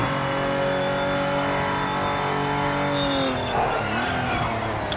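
Race car in the Project Motor Racing video game locking its brakes, engine revs dropping steadily under a brief squeal of skidding tyres, loud and close with no talk.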